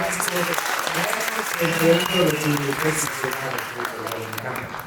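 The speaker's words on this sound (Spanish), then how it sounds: "Un aplauso, por favor, para él." Audience applause at a panel discussion on indigenism, the left and diversity, a steady dense clatter of many hands lasting several seconds, with a voice or two murmuring underneath.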